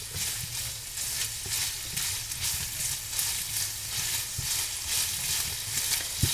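Ground beef browning in a pan for vegetable beef soup, a steady close sizzle with intermittent scraping and stirring knocks throughout, no voices.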